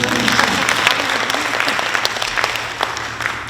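Steady, dense applause from the audience at a comedian's talk concert, loud and continuous throughout with no talk.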